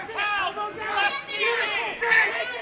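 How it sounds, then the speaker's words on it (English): Arena crowd at an MMA fight shouting and jeering in loud swelling waves for the referee to stand the fighters up, voices overlapping into a continuous roar. "The crowd calling for Chip Snyder to stand the fight up"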